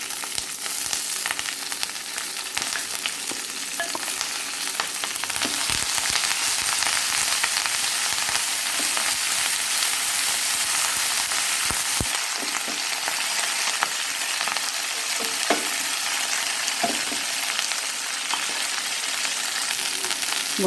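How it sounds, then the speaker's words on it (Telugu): Moringa leaves sizzle and crackle in hot oil with dried red chillies in a pan, a steady, close frying hiss with scattered pops and stirring scrapes throughout, no voices. "అలా వేగుతుండగానే ములగాకును కూడా వేసేసుకుంటున్నాను"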